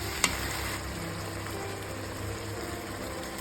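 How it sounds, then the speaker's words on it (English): Mushrooms fry in hot oil in a pan, giving a steady, soft sizzle throughout, with one brief click near the start. "we heat oil again in another pan and we cook the mushrooms"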